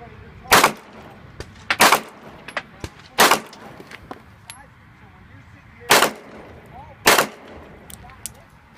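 Sharp pistol shots on an FBI pistol qualification course, fired from a bellyband holster: about six loud, distinct cracks at uneven intervals, some in quick pairs, with faint outdoor background between them and no talking.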